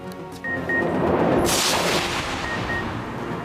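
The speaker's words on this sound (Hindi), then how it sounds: "मेयर पेशावर की नशिस्त जीतने पर JUI कारकुनों का जश्न, आतिशबाजी" Fireworks at a street celebration by party workers after a mayoral election win in Peshawar, with a sustained crackling, booming roar of many bursts, plus a sharp whooshing burst near the middle and faint whistling tones.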